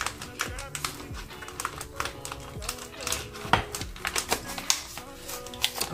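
A pizza being cut into four pieces inside a flimsy, collapsing cardboard box gives irregular close taps and scraping clicks of the cutter against the cardboard, with a person talking over it.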